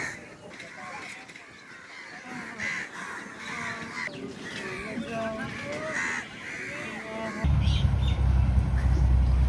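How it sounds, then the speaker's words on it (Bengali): Crows caw repeatedly on a morning, harsh calls coming in overlapping bursts at moderate distance, with other birds faintly audible; near the end a low rumbling noise rises and covers the calls. "খুবই সুন্দর সকাল, কাক ডাকছে"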